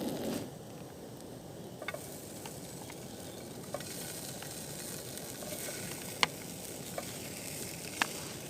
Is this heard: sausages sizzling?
yes